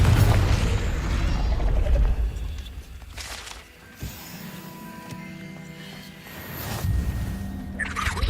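A Confringo fire spell explodes in the Hogwarts Legacy video game: a loud, low booming burst opens the clip with rumbling debris, followed by softer thuds, clanks and a second smaller burst amid game ambience.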